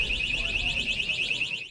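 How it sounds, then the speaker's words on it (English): An alarm blares at Kansas City International Airport with travelers packed on the tarmac: a steady, loud high-pitched warbling tone pulsing rapidly, continuous over a noisy background. "Alarms blaring as travelers pack the tarmac."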